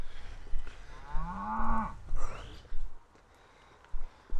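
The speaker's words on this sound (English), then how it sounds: "I think the cows would have kept us awake" Cattle mooing in open countryside at a possible wild camping spot, one long, loud, near moo with a rising then falling pitch, followed by a few shorter grunting calls and quiet gaps.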